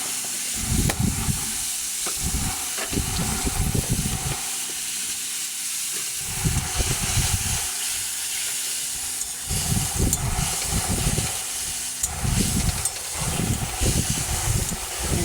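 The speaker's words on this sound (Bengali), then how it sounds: "মশলাটা কষার জন্য একটু জল দিয়ে দিলাম মশলাটা কষা হচ্ছে" A spice paste of turmeric and chili powder, loosened with a little water, sizzles in a pan over a steady hiss that continues throughout, close by, with bursts of clatter from stirring.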